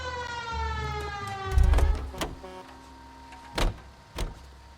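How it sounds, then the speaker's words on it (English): A police car siren in the L.A. Noire video game switches on and winds up into a steady rising wail over the car's engine hum, with a few dull thumps and no speech. "Cole, turn on the siren and pull her over."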